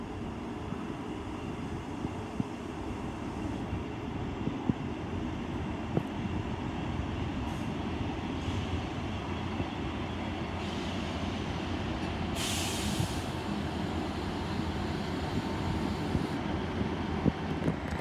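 A Class 158 diesel train rolling through Severn Tunnel Junction station, a steady, moderately loud rumble of wheels and engine with a brief hiss partway through and no talking.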